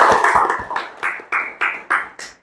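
A few people in a small podcast studio clap together, a close, loud burst of claps that settles into a slower rhythm of about eight distinct claps, with no talking.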